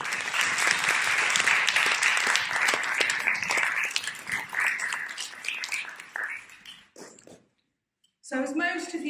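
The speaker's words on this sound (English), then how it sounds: "give them a big round of applause" Sustained audience applause at an Age Proud community event of an older people's network, dense clapping for about six seconds before thinning out and stopping, followed by a brief silence and then a voice starting to speak.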